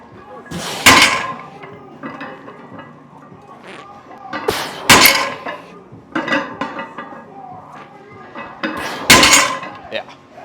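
Loaded barbell clanking down during a pause deadlift warm-up at 585 pounds, three loud metallic plate crashes spaced a few seconds apart with rattling in between in a home gym.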